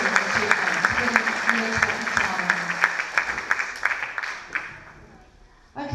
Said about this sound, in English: how about a round of applause in anticipation of that?